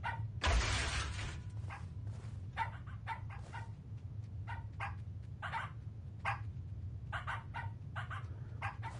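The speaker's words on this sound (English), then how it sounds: "Oh my goodness, puppies!" Puppies in the horror game Pacify let out a loud burst of barking, then a scattered run of short yips and whimpers over a low, steady background hum.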